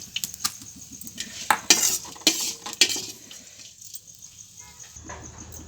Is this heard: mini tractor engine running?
no